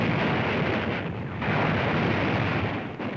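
A sustained loud, rumbling blast fills the whole stretch in a WWII newsreel, a gunshot fired at a sniper in the ruins of Bizerte, North Africa, 1943, with a broad roar and a brief dip midway, no talk.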